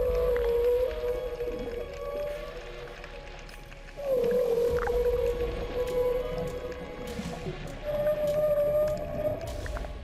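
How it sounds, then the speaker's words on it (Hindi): Long, moaning humpback whale calls rise and hold, repeating over a low watery rumble, loud and continuous. "ये हम्पबैक व्हेल थी जो अपने बच्चे के साथ समुद्र के चक्कर लगा रही थी।"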